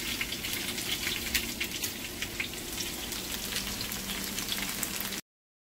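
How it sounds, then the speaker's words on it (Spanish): Tomato sizzling in hot oil for spaghetti sauce, a steady, fairly close crackle and hiss with scattered pops that runs without a break and stops abruptly near the end; no one speaks. "echarle aceite para freír el jitomate para el espagueti"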